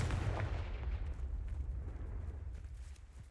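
The Confringo fire spell bursts in Hogwarts Legacy with a deep, booming blast that starts loud and rolls off into a low rumbling decay.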